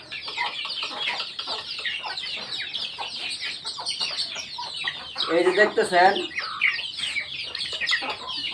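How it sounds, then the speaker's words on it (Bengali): Chickens cluck and squawk on a poultry farm, many birds overlapping in busy, uneven calls with a louder burst of cackling midway, while someone speaks briefly over them. "আমার এই মুরগিরগুলো"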